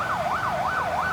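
A Nepal Police fire engine siren wails in a rapid rising-and-falling sweep, repeating about three times in quick succession, loud and clear over background traffic noise.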